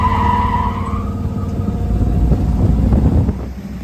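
Freshly installed 350 small block V8 in a 1955 Chevy truck revving, a loud continuous engine roar that climbs and holds before easing off, close by with no talking.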